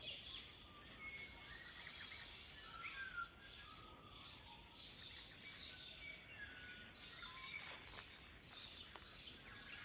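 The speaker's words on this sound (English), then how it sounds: "Hear those birds." Faint birdsong chirps and twitters in the distance over a soft outdoor hiss, with no voices.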